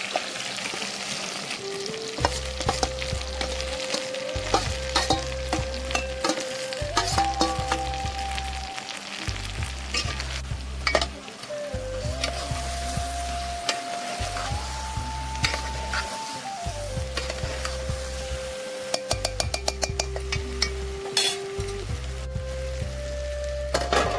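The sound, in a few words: spice masala being added and stirred into frying stuffed brinjal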